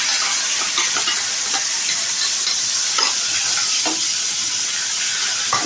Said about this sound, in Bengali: মিশিয়ে নিয়ে এবার এটা তেলের মধ্যে দিয়ে দেবো।